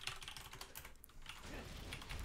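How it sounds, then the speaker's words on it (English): Faint, quick computer keyboard typing: a dense patter of soft key clicks that continues steadily throughout, with no talking. "I'm typing."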